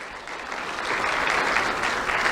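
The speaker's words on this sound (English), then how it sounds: "Round of applause for Lucas Landers." An audience at a student award ceremony claps in a steady, dense burst of applause that swells slightly and holds, filling the room with no talking over it.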